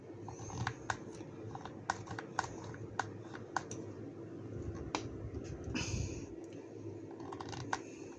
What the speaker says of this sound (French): Je vais faire des points de colle.